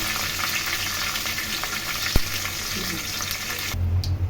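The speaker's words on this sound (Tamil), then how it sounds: "இதை போய்ங்க கருவேப்பிலை போட்டுட்டு அதை நம்ம காஞ்ச மிளகா போட்டுக்கணும்" Dried red chillies and curry leaves fry in hot oil with a steady, dense sizzle and crackle, a single sharp pop standing out midway.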